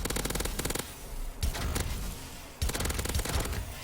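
Rapid, steady bursts of a futuristic laser gun firing in Call of Duty: Advanced Warfare, a weapon that never runs out of ammo, with loud repeated pulses in several runs broken by short pauses.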